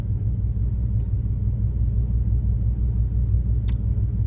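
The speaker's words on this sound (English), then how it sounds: "Let me show y'all this traffic." Road traffic rolls past on a town street, a continuous low rumble of car engines and tyres at moderate distance, steady throughout with a brief faint high squeak near the end and no talk.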